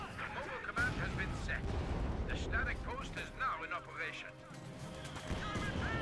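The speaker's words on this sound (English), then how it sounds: "Armored car fires away there." Booming gunfire and explosions from an armored car battle in Company of Heroes 2, heavy repeated blasts and crashes under a fast-talking commentator voice throughout.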